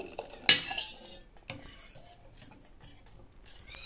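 A spoon clinks and scrapes against a metal pot while stirring in a greens and lentil dish, with a sharp knock near the start and soft mixing sounds after.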